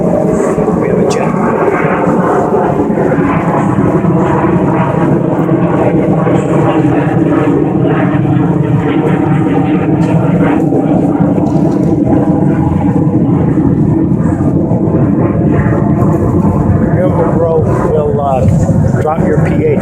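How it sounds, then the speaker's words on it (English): A jet aircraft passing overhead gives a loud, continuous roar that fills the whole stretch, while a person talks over it. "we have a jet."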